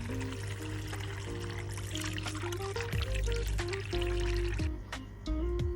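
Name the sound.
washing artemia (brine shrimp) eggs in water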